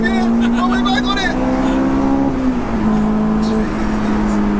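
An HKS-supercharged Honda S2000 screams loudly up through second gear toward 9000 RPM. The close engine whine rises and then briefly dips as the gear changes, and the roar stays continuous throughout.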